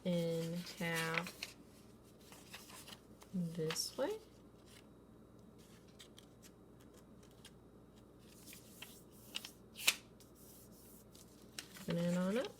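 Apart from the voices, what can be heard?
sheet of paper being folded in half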